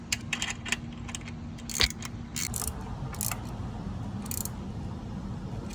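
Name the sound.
wrench tightening a bolt on a Toyota Corolla alternator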